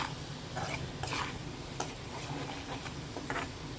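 Chili powder being stirred in a hot pan while making rambutan pickle, with soft scraping strokes, a light sizzle underneath and a few sharp spoon taps against the metal.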